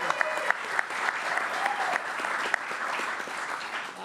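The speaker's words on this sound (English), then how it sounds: "Let's give him a round of applause as well." An audience at a New York State PGA Championship announcement applauds General Chairman Larry Swartz, a dense, steady burst of clapping from many hands close by and fairly loud throughout.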